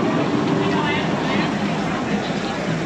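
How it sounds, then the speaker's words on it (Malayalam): A tram passing along a street in New Zealand after an earthquake, a steady loud rumbling and rolling noise that stays constant across the short stretch. "ഇതാ ട്രാം ഇതാ വരുന്നു"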